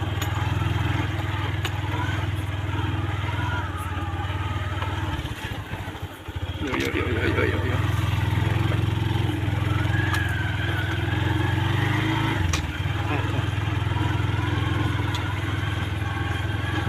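A large low-rider motorcycle engine rumbles steadily and fairly close throughout, with a brief clattering jolt midway, while people talk over it.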